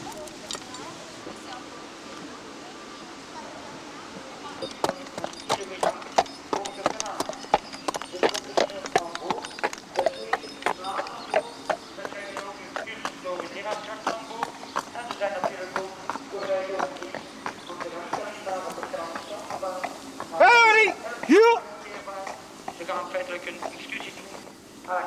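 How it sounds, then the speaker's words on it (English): Cart horse hooves clip-clop along a canal towpath while towing an excursion boat, a steady run of sharp clicks continuing under outdoor chatter, with a brief squeal partway through. "there are excursions along the canal on a boat pulled by a cart horse"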